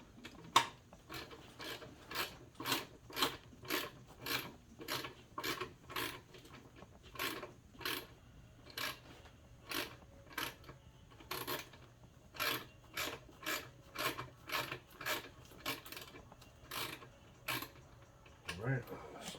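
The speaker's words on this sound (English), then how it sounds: "And get them all loose and use the socket to spin them off." Socket ratchet loosening the throttle body bolts on a 2017 Dodge Journey four-cylinder, a long run of rapid, regular clicking bursts close up, repeating steadily with brief pauses between strokes.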